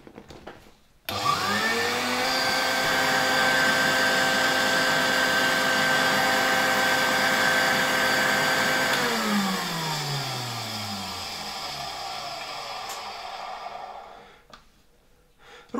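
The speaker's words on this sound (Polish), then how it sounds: "Sprawdźmy może też suszarkę do włosów." A 1965 Gamma II vacuum cleaner, used as a hair dryer, switches on with a sudden start, then gives a loud, steady motor whine and airflow rush for several seconds before winding down with a falling pitch and going quiet.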